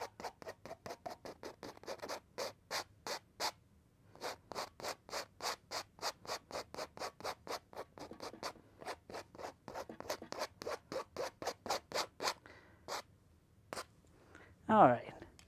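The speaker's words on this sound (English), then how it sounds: "We're going to scrape off the excess paint in the middle. Just scrape it right off the canvas." A palette knife scrapes excess oil paint off a canvas in a long run of rhythmic rasping strokes, close and steady, with a brief pause partway through and a louder scrape at the end.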